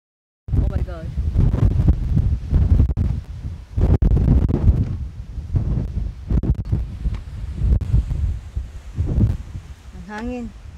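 Strong gusts of wind buffeting the microphone in loud, rumbling bursts, with people talking over it and a brief high squeal near the end.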